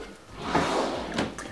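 A makeup storage drawer slides open with a soft whooshing rumble, then two quick knocks or thuds follow as it reaches its stop, all close by in a quiet room.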